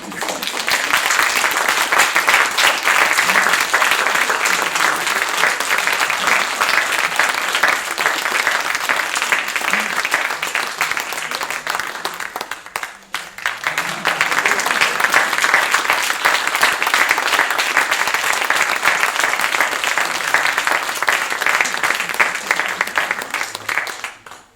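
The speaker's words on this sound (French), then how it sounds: "Je pense qu'on peut les applaudir bien fort," An audience applauds student performers with loud, sustained clapping from many hands, dipping briefly midway before swelling again and continuing strongly to the end.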